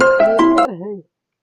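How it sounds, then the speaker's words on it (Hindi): A mobile phone ringtone plays a short melodic phrase of rising tones, loud and close, then slides into a wavering tail before cutting off to silence. "अरे रुक फोन आओ।"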